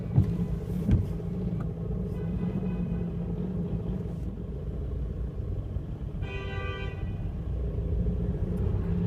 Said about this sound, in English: This is the main Turkish street here in Brussels, and it's always cramped. There's buses,